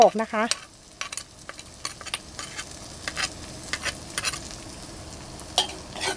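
Pounded chili and garlic hit hot oil in a pan for Thai basil chicken liver, giving a loud initial sizzle that settles into steady close frying crackle with occasional stirring scrapes, no voices.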